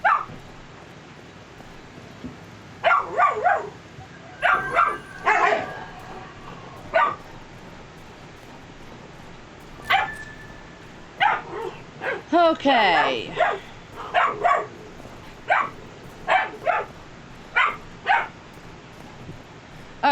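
Three Dalmatian puppies bark, yip and whimper repeatedly in scattered bursts while playing indoors, some near and loud, others softer, with a brief spoken word among them.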